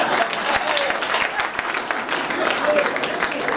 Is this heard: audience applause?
yes